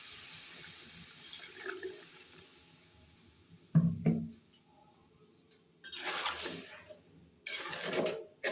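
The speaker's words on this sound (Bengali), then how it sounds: "এখন পরিমাণ মতো জল দিয়ে দেবো।" Water pours into a pan of braised vegetable curry in bursts of running, tap-like flow, with a louder splash near the start and two longer pours later, against quiet kitchen background.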